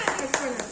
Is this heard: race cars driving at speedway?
no